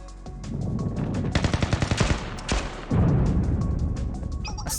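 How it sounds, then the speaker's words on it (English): Gunfire and explosions in the video game Blue Archive: rapid bursts of automatic fire crackle over a dense, roaring battle din, with a heavy blast swelling near the end, loud and continuous throughout. "the sound of gunfire and explosions means the fighting has broken out"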